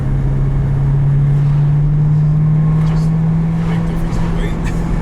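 A 2010 Corvette ZR1 with a 6.2-liter engine while driving, heard from inside as a loud, steady low drone with a slowly rising engine tone, and people talking over it.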